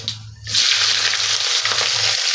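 Cloves, cinnamon, cardamom and fennel seeds dropped into hot oil for a potato chicken curry, bursting into a loud, steady, close sizzle that hisses continuously under a faint low hum.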